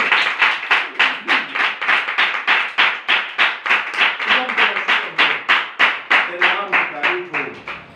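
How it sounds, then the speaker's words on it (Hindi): A congregation at a Hindi-language Christian worship service claps together in a steady, loud rhythm, the beats evenly spaced and sustained for several seconds, with a few voices calling out faintly over the clapping near the end. "एक बार जोरदार तालियां"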